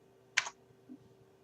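Buttons pressed on an HP 50g graphing calculator: one crisp close click, then a softer second click a moment later, quiet and alone.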